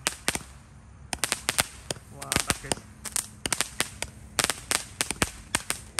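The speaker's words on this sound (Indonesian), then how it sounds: "Jadi ini sudah saya nyalakan mercon mini kick." Mini kick firecrackers set off at night during Ramadan, popping in rapid sharp bursts, a dense crackling string of loud cracks with brief gaps, and a voice speaking briefly over them.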